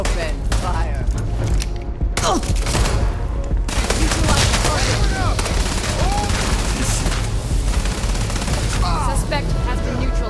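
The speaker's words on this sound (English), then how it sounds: "Open fire." Rapid bursts of gunfire from a Starfield firefight, clattering shots and mechanical weapon sounds packed densely together over several seconds, loud and chaotic with occasional brief gaps.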